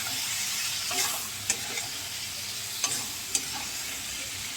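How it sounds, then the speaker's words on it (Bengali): Okra and potatoes frying in a pan, a continuous sizzle with several sharp clicks of stirring against the pan, close and alone with no talking. "এবারে এটাকে একটু ভাজা ভাজা করে নেব"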